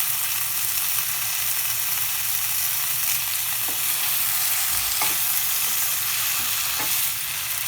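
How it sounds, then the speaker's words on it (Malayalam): Curry leaves crackle and sizzle loudly in hot oil for chicken mappas, a dense continuous frying hiss close up with a few sharper pops and no voices. "കുറച്ച് കറിവേപ്പില ഇടാം."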